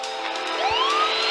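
Ambulance siren in the driving game Commute, a brief rising electronic wail that sweeps upward over a steady game backdrop, clear and fairly loud.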